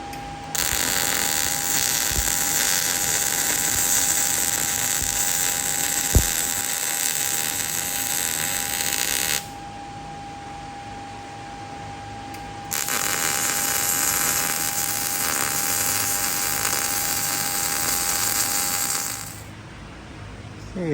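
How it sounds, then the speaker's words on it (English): Steel end caps being welded onto the top of a steel post for a Honda Element swing-out tire carrier: a steady, loud crackling hiss runs in two long bursts separated by a short pause, with no talking. "Welding on some end caps here for the top and head."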